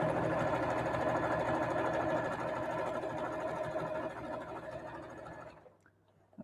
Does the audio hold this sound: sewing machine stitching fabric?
yes